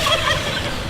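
Turkeys gobbling on a farm where chickens and goats also roam, a brief warbling burst at close to moderate range with no talking.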